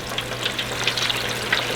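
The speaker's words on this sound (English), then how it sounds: "Let's fry that down like that." Deer backstrap balls frying in oil in a small King Cooker outdoor fryer make a steady bubbling sizzle with scattered crackles and pops, moderately close and without talk.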